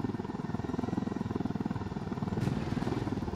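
Helicopter in Ghost Recon Wildlands, its rotor beating in a steady fast rhythm with a loud continuous engine drone, close and alone.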